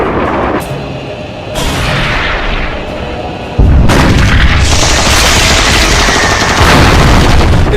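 A naval battle scene in the film Battleship, with heavy booms of artillery and bursts of gunfire that grow louder and denser halfway through into a continuous barrage.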